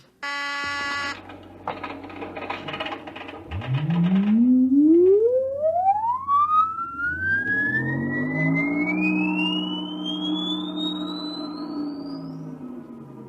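A lifeboat machine powers up as a synthetic sound effect: a buzzing hum, then a long electronic tone that sweeps steadily upward in pitch like a rising siren and settles into a sustained high whine, loud and close.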